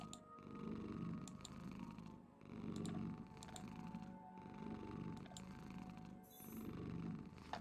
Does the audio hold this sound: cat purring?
yes